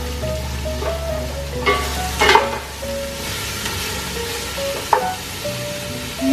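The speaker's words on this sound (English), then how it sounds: "We add our leaves and stir well." Paste sizzles and fries steadily in a pan as leaves are stirred in, with a constant close crackle and occasional scraping stirs for soto medan.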